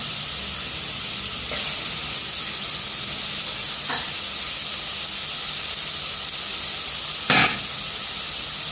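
Small potato pieces dropping into a pan of frying soya pulav, a steady close sizzle with a few brief louder hissing bursts as pieces hit the hot oil.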